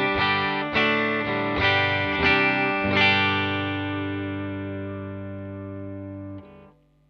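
Squier Affinity Stratocaster electric guitar on its bridge pickup, played through effects with distortion and chorus: several strummed chords in quick succession, then a final chord ringing out and decaying until it is cut off near the end.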